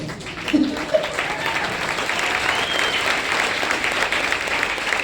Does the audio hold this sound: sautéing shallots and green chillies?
no